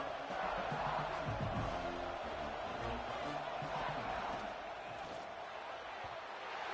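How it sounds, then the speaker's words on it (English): A large home crowd roars steadily at a college football game featuring the Buckeyes, a dense, continuous stadium din with a commentator talking over it. "how nice is it to have the home crowd going absolutely bananas?"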